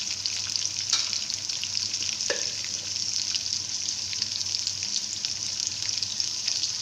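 Onion and spices sizzle in hot oil for daal maash, a steady close frying hiss with occasional stirring scrapes, and no one talking.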